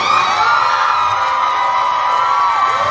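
A live concert crowd at an outdoor show on James Island, South Carolina cheers and whoops loudly for the singer's mother, a continuous dense roar of shouting voices near and far.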